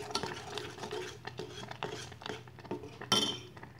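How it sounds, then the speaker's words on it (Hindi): A spoon stirs jaggery rice kheer with cardamom powder in a pan, giving a series of light metallic clinks and scrapes in an uneven rhythm, close and fairly quiet, with one sharper clank near the end. "अब इसमें मैंने इलायची का पाउडर बना दिया है, वो खीर में डाल दूंगी। मिक्स कर देना है अच्छी तरह से।"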